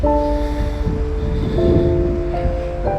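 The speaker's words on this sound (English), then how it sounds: "The wind has really come up here." Low, rumbling wind buffets the microphone in uneven gusts by the Boise River while a DJI Spark drone flies, with a steady high-pitched mechanical whine running over it throughout.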